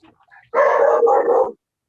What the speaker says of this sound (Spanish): El perrito parece que también entendió.